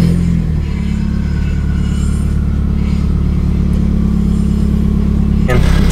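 Car on the road, a WRX with a rock stuck between brake pad and rotor, giving a steady low rumbling drone with continuous scraping while driving, brief louder shift near the end.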